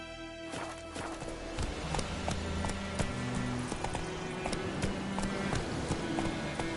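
Roach the horse gallops in The Witcher 3, hooves clip-clopping in a quick steady rhythm up close, with a man's short call at the start.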